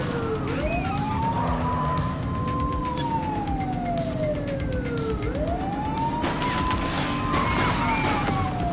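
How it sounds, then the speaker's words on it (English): Police sirens wail continuously in The Precinct police video game, one rising and falling tone sweeping twice, while dense crackling gunfire rattles underneath across the whole stretch. "He's shooting!"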